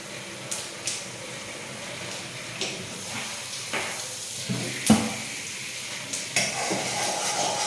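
Turmeric, salt and sambar powder frying in hot oil, a continuous sizzle and hiss broken by repeated stirring scrapes and one louder clank, close and fairly loud.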